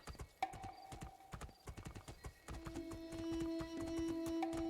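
Horse hooves clip-clop in the game Two Worlds 2, a steady run of close, distinct footfalls over game music and ambient tones, with no talk.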